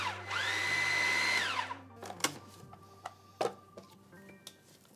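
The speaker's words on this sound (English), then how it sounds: "We're gonna blitz this again until it starts to roll upon itself in one homogeneous mixture." A food processor blitzes a black bean protein bite mixture in one loud, steady burst of roughly a second and a half, then winds down, followed by scattered clicks and knocks as the bowl is handled.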